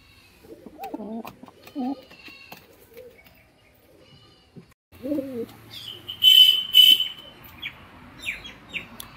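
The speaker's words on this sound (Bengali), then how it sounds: "বন্ধুরা, একজোড়া বেনারসি গিরিবাজ পেয়ার, পেয়ারটি আপনারা দেখুন" A pair of Benarasi Giribaz pigeons gives soft, low coos in short bursts, close by, along with a few brief chirps and other higher bird calls toward the end.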